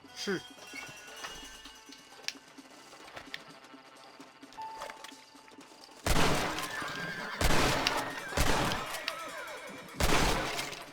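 In the Red Dead Redemption game, horses whinny in fright and a door is smashed in with loud, crashing impacts, several heavy bursts following quieter scattered noises, with voices talking in between.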